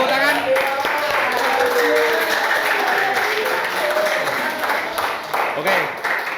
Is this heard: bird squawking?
no